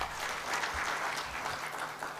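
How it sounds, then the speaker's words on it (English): Audience clapping at a high-level national stakeholders' dialogue on constitutional reforms, a fairly quiet, steady patter of applause heard briefly at moderate distance. "Please give Mr. Babo a very big round of applause."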